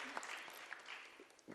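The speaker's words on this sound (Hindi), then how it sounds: "जोरदार तालियों के साथ हम उनके आभारी हैं।" Audience applause at a concert at the Nehru Centre in Worli, offered for the sound engineer: a short, soft burst of crowd clapping heard from some distance.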